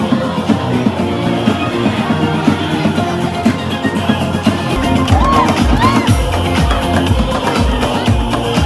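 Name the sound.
crowd dancing around a DJ at a Bali party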